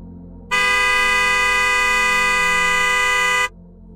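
A vehicle horn blares in city traffic in Jaipur, one loud, sustained honk lasting about three seconds, starting and stopping abruptly against quiet background noise.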